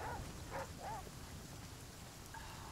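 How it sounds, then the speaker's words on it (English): Steady rain hiss in The Flame in the Flood video game fills the background, soft and continuous, with a few faint tonal chirps near the start and end. "It's still raining."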